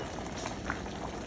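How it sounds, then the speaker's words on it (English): Beef liver with onion and Worcestershire sauce simmers under a closed lid, a short, quiet, even bubbling with no talking. "we're now gonna close the lid and let that simmer for"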